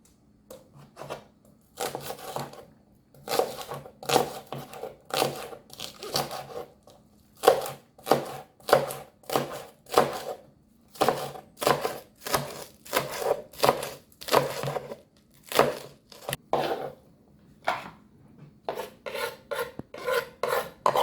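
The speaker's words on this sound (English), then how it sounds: "I'm gonna just go ahead and chop them up" A knife chops fresh seasoning vegetables on a cutting board for a beef stew, giving steady runs of close, crisp rasping strokes in quick bursts separated by short pauses, with no talking.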